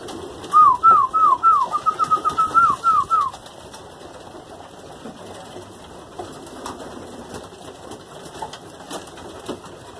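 Homing pigeons at a loft feeding spot give a quick run of bird calls and soft flutters near the start, then only a low, quiet background with faint scattered rustles.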